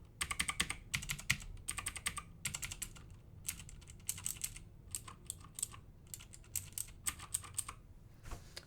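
Fingers clatter across an $80 Corsair-style LED keyboard in quick uneven bursts of close, crisp key clicks separated by short pauses, with no talking.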